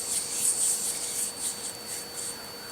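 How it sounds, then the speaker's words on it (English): Palms rub together briskly during a meditation, a soft close swishing that repeats in even strokes over a faint steady background hum. "Rubbing your hands together here, feeling an energy start to build."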